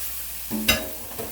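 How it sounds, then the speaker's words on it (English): Chopped asparagus, three quarters of a pound, goes into a hot turkey and vegetable stir-fry pan, setting off a sudden loud sizzle and one clattering impact before it settles into a softer, steady frying hiss. "I'm going to go ahead and put in my asparagus"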